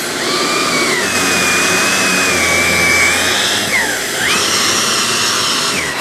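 A Shark Apex vacuum runs with its TruPet mini motorised attachment, a loud, close, steady whine whose pitch dips and recovers as the tool is moved.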